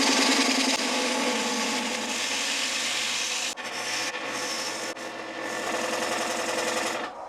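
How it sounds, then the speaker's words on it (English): Wood spinning on a lathe is cut with a 3/8-inch bowl gouge while turning a lazy susan, giving a steady close scraping hiss with a whirring hum and a few brief dips as the tool lifts off. "Right now I'm using a 3/8 bowl gouge."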